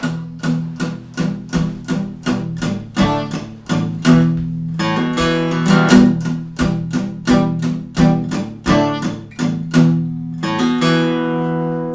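Acoustic guitar intro to a song with steady plucked and strummed chords in a regular rhythm, bright and close, with a fuller strummed passage in the middle and a ringing final chord.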